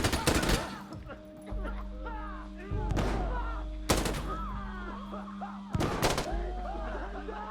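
Gunfire in the game Insurgency: Sandstorm on the Outskirts checkpoint map, with M1911, M16A2 and PKM weapons: four loud, sharp shot bursts roughly every one to two seconds over a steady low hum, with speech-like chatter in between.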